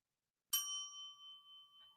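A small bell is struck once, giving a sharp metallic ding that rings on with steady tones and slowly fades, alone with no talk.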